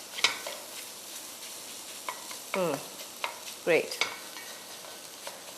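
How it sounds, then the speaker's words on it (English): Prawn egg fried rice is stirred and tossed in a Chinese wok, giving a soft sizzle under scraping metal strokes and clinks at irregular intervals, and one short spoken word is heard. "especially Chinese rice dishes, in a wok because it's easier to stir"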